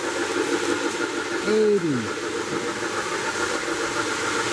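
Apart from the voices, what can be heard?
MTH Big Boy model steam locomotive running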